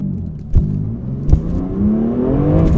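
A BMW F87 M2 Competition accelerating with its rear wheels spinning, a steady loud engine drone rising gradually in pitch over a few seconds, with a couple of brief sharp knocks or chirps along the way.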